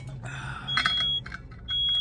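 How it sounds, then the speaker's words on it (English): Inside a van while breakfast cooks, a smoke alarm gives short, shrill electronic beeps, first in a broken pattern and then a sustained tone, loud and close over quiet road rumble. "Our smoke alarm went off."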